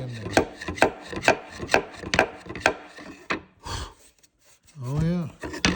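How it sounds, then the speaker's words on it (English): A hammer taps a loose brad nail back into a wooden piece, about eight crisp, evenly spaced knocks close to the microphone, then a pause before a person speaks. "now I'll take my hammer, just kind of tap it back in there"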